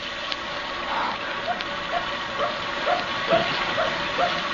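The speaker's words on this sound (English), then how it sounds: "There's that dog again." A dog barks repeatedly in an old-time radio drama, a series of short, somewhat distant yips at roughly regular intervals over a constant hissy background.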